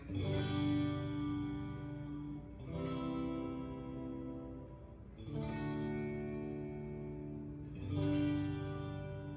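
Harley Benton ST-70 Strat-style electric guitar on the hum-canceling middle-and-bridge pickup setting, four sustained strummed chords roughly every two and a half seconds, each ringing out loud and clear with effects-laden chorus and reverb, no voices.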